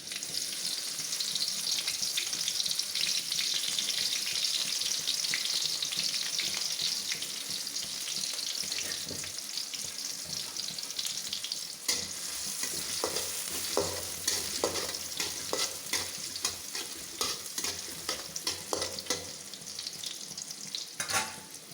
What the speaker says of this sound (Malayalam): ഇനി ആ എണ്ണയിലേക്ക് തന്നെ നമ്മൾ പച്ചമുളക് ആവശ്യമുള്ള 6 പച്ചമുളക് പറഞ്ഞില്ലേ, അതുകൂടെ വറുത്ത് കോരാം.